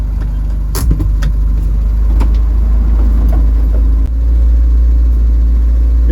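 A retro Ford car engine idles steadily while low on fuel, a loud, close, continuous low rumble with a few sharp clicks and a brief dip partway through.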